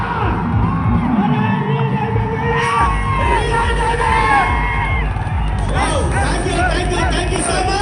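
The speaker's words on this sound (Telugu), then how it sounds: "ఒకసారి గట్టి క్లాప్స్ అన్నాడు బాసా సార్కు" Audience at a mentor's speaking event, crowd cheering, whooping and shouting in a loud continuous roar with clapping mixed in and overlapping voices.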